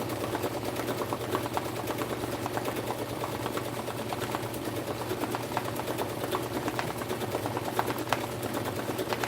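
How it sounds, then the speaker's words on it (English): An embroidery machine stitches across a cap with a dense, rapid, unbroken needle chatter and motor drone that stays loud and even throughout, with no voices. "Stitched right across the middle of that."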